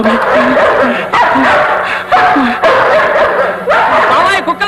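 Several dogs bark loudly and close by in repeated bursts, mixed with yips and whimpers, while people speak over them.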